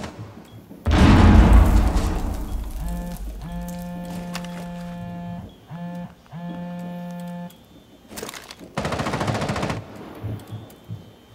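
Rapid automatic gunfire in Rainbow Six Siege Team Deathmatch, two loud close bursts of machine-gun fire separated by a stretch of electronic beeping tones, the shots dense and booming.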